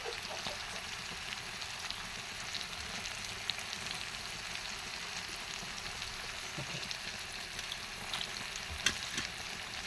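Pieces of tuna fish fry in a pan with a steady, dense sizzle that crackles evenly throughout, with a few sharper pops near the end and no voices.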